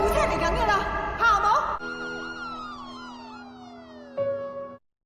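Wailing ambulance siren in a kung fu film soundtrack, first mixed with voices and a busy scene, then a clearer steady tone with a falling pitch sweep, ending abruptly.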